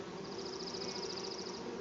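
A close swarm of honeybees drones without pause across a hive frame at the first spring inspection, forming a thick, even buzz with a faint high whine layered over it.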